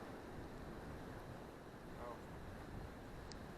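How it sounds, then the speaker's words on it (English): Strong wind buffets the microphone beside a creek, a loud, constant low roar and rumble that lasts the whole stretch with no letup, with no clear voices over it. "This wind is outrageous."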